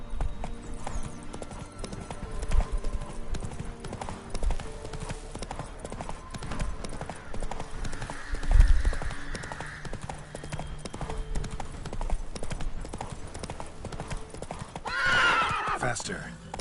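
Roach, a horse in The Witcher 3 video game, gallops with steady, rapid clip-clop hoofbeats, then a loud neigh rises near the end, while someone talks over the action.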